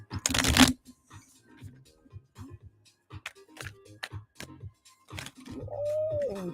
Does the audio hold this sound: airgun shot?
no